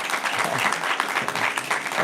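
Audience at a devotional talk applauding, a short, even burst of many hands clapping at moderate loudness with no talk over it.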